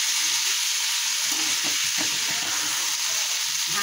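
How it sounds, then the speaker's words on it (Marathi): Cluster beans stir-fried with coarse peanut powder sizzle steadily and loudly in the pan, with scraping stirs audible around the middle. "शेंगदाण्याचा कूट केलेला जाडसर कूट करून घ्यायचा तो घालायचा, चांगला असा परतून घ्यायचा।"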